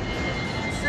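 An airplane passes close overhead at a plane-spotting lookout above Taipei, making a steady, loud, broadband roar that fills the whole moment.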